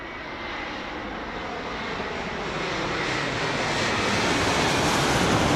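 A Boeing 787-8 airliner arriving from Kuwait City at Heathrow Airport produces a continuous, loud engine roar. The roar is broad and rushing and swells gradually as the jet draws nearer, with no voices.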